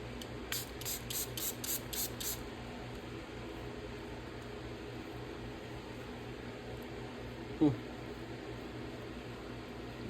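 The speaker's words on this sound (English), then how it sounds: "we're gonna spray it down a little bit, microfiber it" A quick burst of six short, hissing sprays of cleaner from a spray bottle onto a knife, followed by quiet steady room hum and a single faint rubbing sound.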